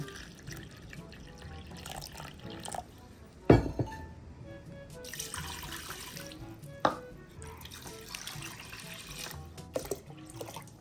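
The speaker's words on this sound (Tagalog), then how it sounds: "ilalagyan ko po yan ng tubig. So bali 12 cups po ang ating ilalagay." Tap water runs into a container for an ice candy mixture of cornstarch and water, with splashing and glass clinks coming in bursts over several seconds between quieter pauses, close to the listener.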